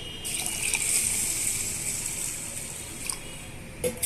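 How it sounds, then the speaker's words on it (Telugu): Drinking water poured onto soaked urad dal and rice in a bowl, a steady close gush and trickle of liquid lasting several seconds with a brief splash near the end. "ఇప్పుడు ఇందులోనే మనము మంచినీళ్ళు పోసి"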